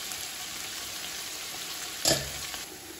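Onions sauté in a pan for chicken biryani, giving a steady, fairly soft sizzle with one brief louder crackle of stirring near the end.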